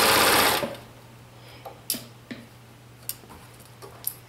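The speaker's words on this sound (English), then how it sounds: "I just use my sewing machine" A sewing machine whirs loudly in a short burst of stitching, then stops, leaving a low hum and a few scattered clicks.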